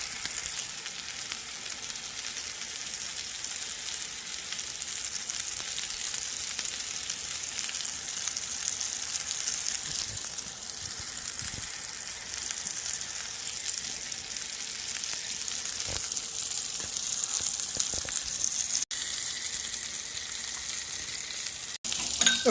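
Tuna searing in browned butter gives a steady, close sizzle that runs unbroken for about twenty seconds, with a few soft clicks and small pops near the end.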